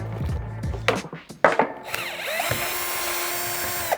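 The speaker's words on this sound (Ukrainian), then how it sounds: "розбирати інструмент шуруповертом можна" A cordless screwdriver unscrewing a rotary hammer's housing whirs in short bursts, then runs in a longer steady spin, with metallic clicks and handling noise close by.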